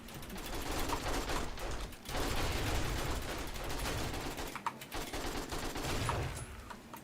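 Rapid bursts of automatic gunfire from the zombie survival game 7 Days to Die, loud and nearly continuous across the stretch, with brief gaps between volleys and a few sharper single shots.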